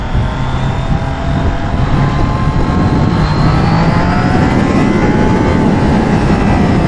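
Triumph Trident motorcycle engine pulling hard under acceleration on a test ride, a loud steady roar with rising pitch and heavy wind rush throughout.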